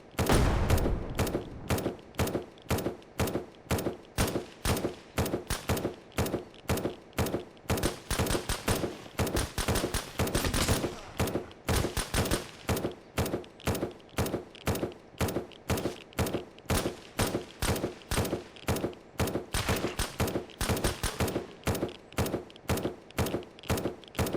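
An automatic turret in the zombie survival game SurrounDead fires an even, rapid stream of sharp shots that keeps going for the whole stretch.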